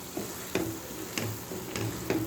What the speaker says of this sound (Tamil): உள்ளே சேர்த்து நல்லா கிளறி விட்டுக்கோங்க.